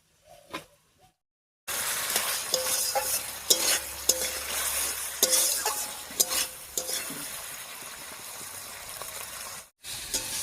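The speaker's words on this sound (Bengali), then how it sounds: "এবারে আলুটাকে খুব ভালো করে কষিয়ে নেবো মশলার সঙ্গে" Potatoes frying with spices in a pan for a cauliflower and potato dish, sizzling steadily with repeated scraping stirs for most of the stretch, close and fairly loud, after a brief quiet opening.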